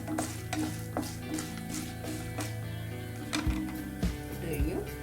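Lentils frying on a low flame in a pan for lemon rice, a steady soft sizzle broken by sharp clicks and scrapes of stirring, heard under a voice talking.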